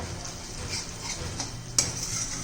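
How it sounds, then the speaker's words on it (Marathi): Garlic chutney stirred by hand in a pan right after curd is added, with soft scraping and clinking of a spoon against the metal, a faint sizzle beneath and one sharper knock near the end. "दही घातल्यावर मात्र व्यवस्थित पटकन हलवत राहायचं नाही तर दही फाटतं"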